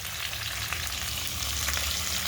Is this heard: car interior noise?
no